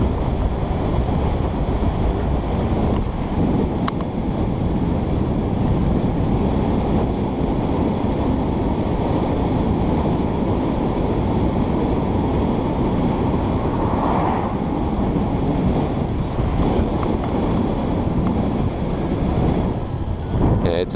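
Loud, steady wind roaring over the microphone while cycling one-handed at 55 km/h, a continuous rushing buffet with no letup.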